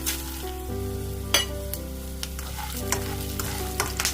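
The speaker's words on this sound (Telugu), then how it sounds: "ఇప్పుడు దాంట్లోకి మనం పల్లీలు వేస్తున్నాము. పల్లీలు కొంచెం వేగాలండి, కలర్ చేంజ్ అయిన దాకా" Peanuts frying in a pan until they change colour: a steady close sizzle with scattered crackles and pops under a constant low hum, with no talking.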